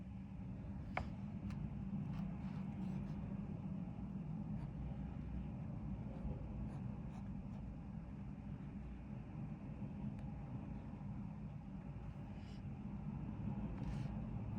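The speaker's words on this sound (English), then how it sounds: "there's a lot of traffic outside" Road traffic outside a hotel, a steady low rumble of passing vehicles that holds constant throughout at a distance, faint and continuous with occasional brief higher clicks, no talk.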